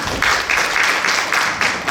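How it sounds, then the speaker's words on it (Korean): Audience applause welcoming a lecturer at a Korean safety culture academic conference hall, a steady wash of clapping in pulsing waves for about two seconds with no voices on top. "큰 박수로 장민 교수님을 모시겠습니다."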